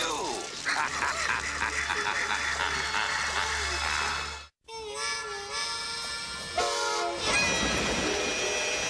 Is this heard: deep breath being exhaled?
no